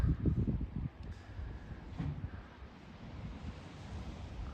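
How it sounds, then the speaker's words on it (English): Wind buffets the microphone over a steady wash of surf, with louder rumbling gusts early on that settle into a constant roar. "Ocean."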